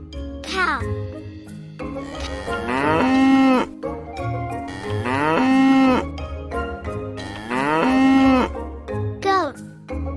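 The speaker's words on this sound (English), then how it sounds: "Cow." A cow moos three times in long, drawn-out lowing calls spaced a couple of seconds apart, loud and close with nothing else around them.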